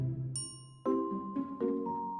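A bright notification bell chime plays as a cluster of clear ringing dings that rise in pitch and sustain with shimmering overtones. It is layered over a low tone and has no talk.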